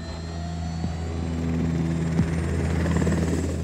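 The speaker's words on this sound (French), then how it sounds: "L'hélicoptère de Pascal Brun peut décoller." A helicopter lifts off in Chamonix after an early-morning snow shower, its steady rotor drone and turbine hum loud and close throughout, with the engine pitch climbing as it rises.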